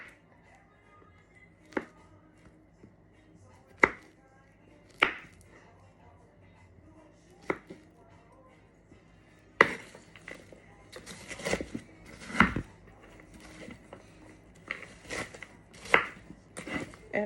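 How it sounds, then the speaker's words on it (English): Knife chopping banana on a cutting board for parrot chop, sparse single strikes at first, then a quicker, irregular run of sharper cuts, fairly close and fairly quiet. "And then I'm going to take the banana and chop the banana up."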